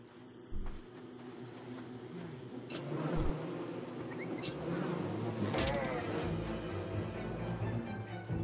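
Killer bees buzz steadily in Don't Starve Shipwrecked/Hamlet gameplay, a continuous close insect drone with a few sharp game clicks and effects over it.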